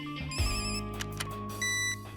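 A telephone rings with a bright electronic ringtone, repeated tonal bursts sounding close and clear over a quiet room, with no talking during the ring.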